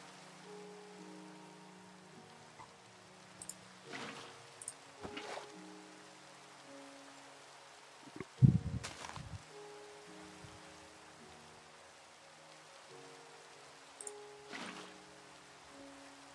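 Rain in the Minecraft SkyBees modpack, a soft steady patter of falling drops forming a faint continuous bed, broken by a few brief louder knocks and game sounds.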